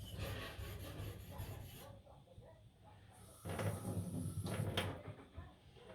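A knife blade scrapes back and forth along a sharpening surface to work its existing bevel, making a near, gritty rasp in two bursts separated by a short quieter pause.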